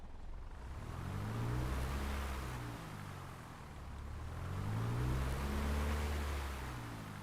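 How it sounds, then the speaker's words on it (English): A naturally aspirated piston engine of a Piper Tomahawk in Microsoft Flight Simulator rumbles, swelling and easing twice as the throttle is opened and closed, its deep drone rising and falling steadily. "do a couple cycles of the throttle so that you can hear the inertia that this aircraft engine has"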